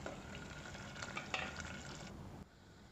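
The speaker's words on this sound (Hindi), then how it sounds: "इस तरह प्याज भुनकर तैयार है" Onions frying in a pan for a fish curry and dal meal, a soft, steady sizzle with faint stirring, quiet and close, cutting off near the end.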